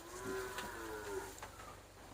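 A Thai Yai cow at a cattle market lets out a low, drawn-out moo, then a second shorter call, set against a steady bed of outdoor market noise.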